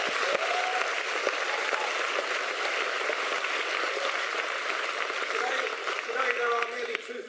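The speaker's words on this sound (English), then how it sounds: "I think we should give them both a round of applause." Rally crowd applauding at an anti-racism event, a broad, continuous roar of clapping from a large audience with faint voices mixed in, steady and fairly distant, tapering slightly at the end.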